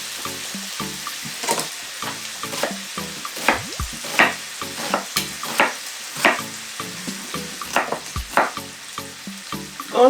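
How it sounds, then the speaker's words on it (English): Bacon and onions frying in a pan, a steady sizzle broken by repeated knocks and scrapes of stirring, close up with no talking. "As it's frying, I'm quickly chopping in onions."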